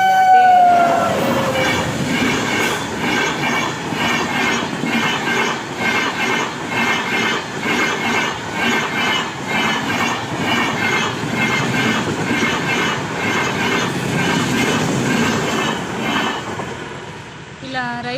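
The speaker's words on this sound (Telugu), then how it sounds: "ఇంకా రైళ్లు వెళ్ళిపోయినాయి కదండి" A train rolls past a railway level crossing close by, loud rhythmic clickety-clack of wheels over rail joints with metallic squeals, fading slightly near the end.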